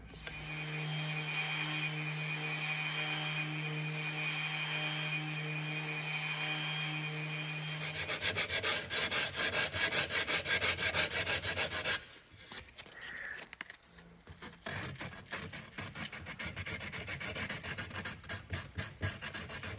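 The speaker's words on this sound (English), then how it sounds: "So I'm gonna surface sand it first and then go with some 120 and smooth off all these little rasp marks." A wooden chair under repair is sanded by hand with 120-grit sandpaper, giving a continuous close, rhythmic rubbing and scratching with a steady background hum and a brief pause midway.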